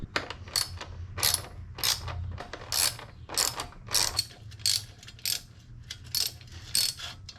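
Small hand tool pulling back exhaust bracket springs during a Yoshimura exhaust install on a Kawasaki KLX 300 motorcycle, a rapid series of about a dozen close, sharp metallic ratcheting clicks in a steady rhythm.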